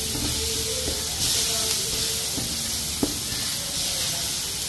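Ginger and garlic sautéing in a pan give off a steady, close sizzle and hiss throughout, with a few faint clinks and scrapes of stirring.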